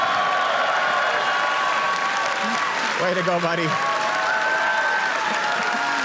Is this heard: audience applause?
yes